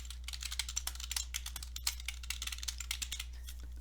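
Quick keystrokes on a computer keyboard entering a project name in QGIS software, rendered as a soft, uneven patter of clicks close by over a low steady hum, with no speech.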